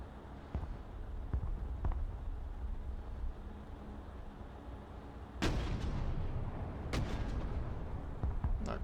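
Distant artillery fire from a fire mission in the video game Broken Arrow: a steady low rumble with scattered thuds, then a heavy blast near the midpoint and two more sharp impacts toward the end.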